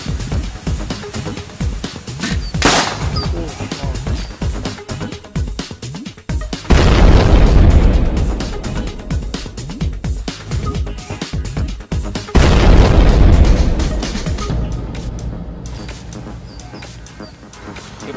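A bow-launched arrow with its arrowhead made from a cheap firecracker bursts outdoors, with loud booming blasts standing out over a steady background noise.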